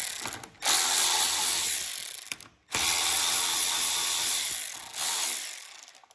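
A hand ratchet fitted with a 10mm socket works bolts loose on a Craftsman snow thrower, giving a loud, close, steady ratcheting clatter in long sustained runs broken by a couple of short pauses.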